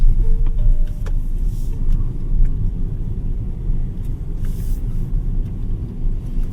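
A BYD Seagull subcompact car drives over a brick road, with a steady low rumble of tyres and road noise inside the cabin and faint small clicks and knocks throughout.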